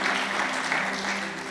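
A church congregation applauds during a Portuguese-language service, a brief, dense burst of many hands clapping together that holds steady and then begins to fade.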